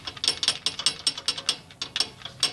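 Worn sway bar bushings on a car give off a rapid series of dry, clicking rattles, about five per second, close by and steady with no voices over them.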